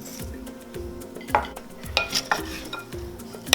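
Ackee and green jackfruit seasoned with pink salt and black pepper, stirred in a pan with a utensil, giving soft repeated scrapes and a few sharp metallic clinks against the pan over a faint sizzle, close with no talking.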